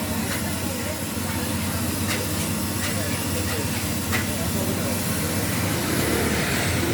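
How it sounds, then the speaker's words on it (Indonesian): Mie Aceh noodles cook in a wok with Acehnese spices at a food spot in Julok, Aceh, giving a loud, steady hissing roar with no break throughout. "Ini saudara putra teman-teman sedang mengolah mie Aceh."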